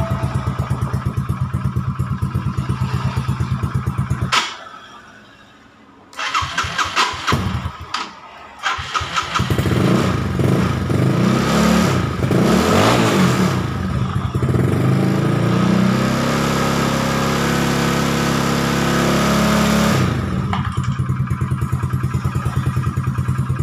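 A Yamaha Mxi 125 motorcycle engine, with a faulty charging system, idles, cuts out briefly, then restarts and revs up and down repeatedly, loud and close, before settling back to a steady idle.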